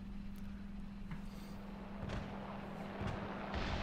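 A 128 mm tank gun fires in War Thunder, a few heavy distant thuds over a constant low engine hum, faint and muffled.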